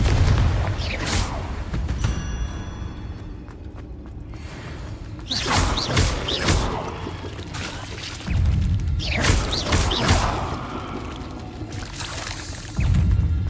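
Fire spells blast in a Hogwarts Legacy duel, several loud booming whooshes spaced a few seconds apart over a steady rumble of game noise, with no talk.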